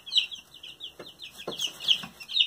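Young chicks in a cleaned-out brooder box peep in quick, high repeated chirps close by, with a few soft low clucks and rustles in between.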